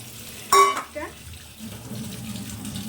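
Water splashes briefly as soybean chunks are rinsed in a basket, a short loud gush followed by a few small trickles and faint kitchen movement.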